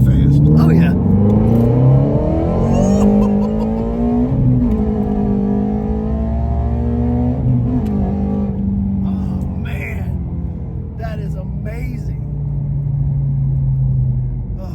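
A fully modded Ford Shelby GT350 with a flat-plane-crank V8 drones steadily from inside the cabin while driving, with a deep, continuous engine rumble that rises and falls. Voices talk over it.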